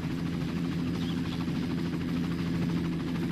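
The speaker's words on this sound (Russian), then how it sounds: "Опс, вертолет полетел." Helicopter flying in the video game Far Cry, a steady low rotor drone and engine hum that holds evenly throughout without rising or fading.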